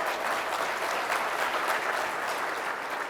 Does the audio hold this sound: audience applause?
yes